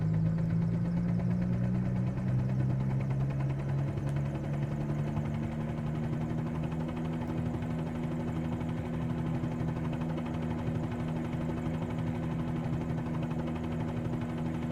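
The piston engine of a Bell 47 helicopter on floats in Microsoft Flight Simulator drones continuously at idle, a low even hum with a faint rhythmic throb that holds constant throughout.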